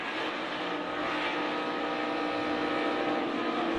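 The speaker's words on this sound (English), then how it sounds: "You can hear the RPMs pick up." NASCAR Cup Series race car engine during the GEICO 500, roaring in a loud, steady, sustained drone as the revs build, with no voices over it.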